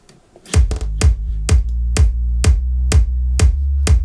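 A deep sub bass and a punchy kick drum play together in an electronic mix, about nine hard, evenly spaced hits over a sustained low rumble, loud and upfront.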